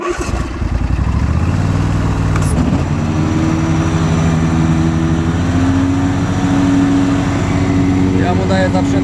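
Loud, steady engine drone of a Simplicity Broadmoor SLT300 ride-on mower close up, cutting wet grass in a forest, its pitch rising slightly as it works, with a brief knock midway.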